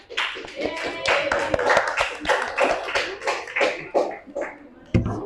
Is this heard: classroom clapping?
yes